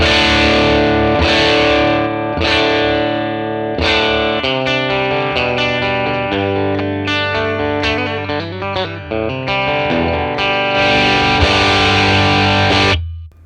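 Electric guitar through a 1957 Fender Tweed Bassman amp capture, a loud, overdriven run of chords and single notes with varied dynamics, close and full, ending with a ringing chord that cuts off.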